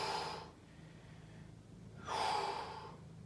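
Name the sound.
person breathing during a stretching exercise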